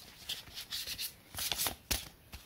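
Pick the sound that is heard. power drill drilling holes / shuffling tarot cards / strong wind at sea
shuffling tarot cards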